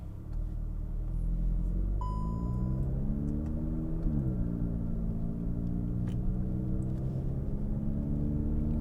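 A Volkswagen MK7 GTI with a louder aftermarket exhaust and about 300 wheel horsepower pulls away from a stop, its deep engine rumble rising through gears with a brief dip and recovery, heard from inside the car.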